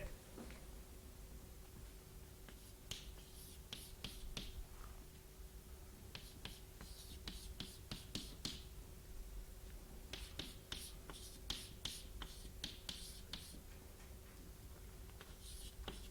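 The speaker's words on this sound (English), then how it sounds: "maybe I'll write it here" Chalk writing on a board during a mathematics lecture, sharp clicks and scratchy taps in clusters, faint against a steady room hum, no talking.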